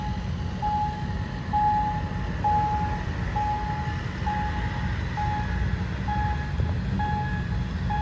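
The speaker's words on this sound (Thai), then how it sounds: "ก็จะมีรถไฟเข้าสถานีกรุงเทพนะฮะ" A steady rumbling train noise fills the scene as an express train pulls into Bangkok station, with a repeating electronic beep sounding at regular intervals throughout.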